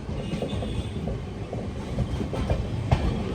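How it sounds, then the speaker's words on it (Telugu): The Kondaveedu Express rolls into Dharmavaram Junction with a steady rumble and a rhythmic clickety-clack of wheels over rail joints, heard up close and continuous. "ధర్మవరం జంక్షన్ స్టేషన్ లోపలికి వెళ్తున్నప్పుడు కొండవీడు ఎక్స్ప్రెస్ ఫుల్ వ్యూ"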